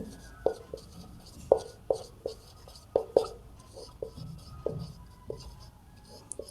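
Pen strokes on paper while working a Class 12 maths problem on relations and functions, heard as a steady series of quiet, close scratches and taps at a fairly even rhythm with no talk.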